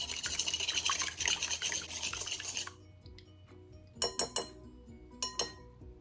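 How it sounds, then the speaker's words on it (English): Two extra-large eggs are lightly beaten in a large bowl, making quick, continuous clinking and sloshing for a few seconds. After a pause, a few separate taps and clinks ring out against the bowl. "I'm going to lightly beat them."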